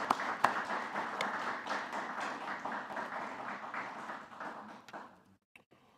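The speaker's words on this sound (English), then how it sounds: "How about a nice round of applause for those members?" An audience applauds National High School Football Hall of Fame inductees, a dense, even patter of many hands clapping that carries for several seconds, then fades out abruptly.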